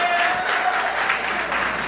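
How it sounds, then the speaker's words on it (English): Applause from an audience at a sermon-style talk on letting go of burdens, a steady dense wash of hand clapping filling the short clip at even loudness, with a faint voice underneath. "give her a good hand clap"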